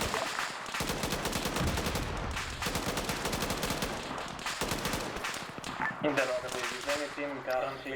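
Sustained bursts of automatic gunfire and rapid rifle shots in a military shooter game, dense and continuous with sharper cracks and a slight shift in the final seconds.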